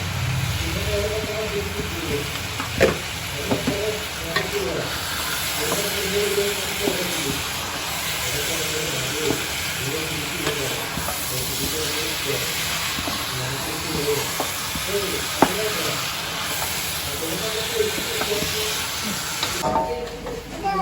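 Chicken curry stirred and simmering in a pan, a steady broadband sizzle and hiss throughout with faint scraping, close and even in level.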